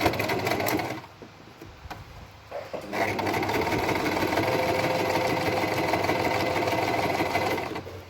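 A sewing machine stitches the hem of a halter-neck top in a fast, even mechanical whir. It pauses briefly near the start, then runs steadily up close before slowing at the end. There is no talking.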